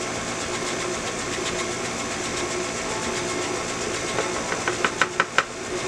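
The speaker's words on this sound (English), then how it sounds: "That is a KitchenAid for you." A KitchenAid stand mixer runs steadily at close range, mixing moistened brownie cookie dough before the flour goes in. The whir is continuous and fairly loud, with a few sharp clicks and knocks near the end.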